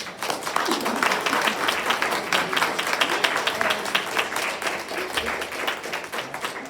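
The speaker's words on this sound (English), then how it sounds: "let's give them a big round of applause" An audience at an author event gives a sustained round of applause, many hands clapping in a steady, fairly even wash that continues for several seconds with no talking over it.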